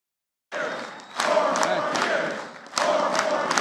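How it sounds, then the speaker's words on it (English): A crowd chants behind a speaker at a political rally, a dense roar of many voices that swells in loud bursts after a brief silence. "People behind him were chanting."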